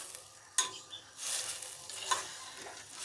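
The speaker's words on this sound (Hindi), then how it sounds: "अब हम इसको मिक्स कर देते हैं।" A spoon stirs sweet milk vermicelli (seviyan) with coarsely crushed almonds in a pot, giving soft scraping and swishing strokes over a gentle sizzle, close and moderately quiet.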